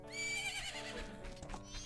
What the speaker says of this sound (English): this is our horse on the first day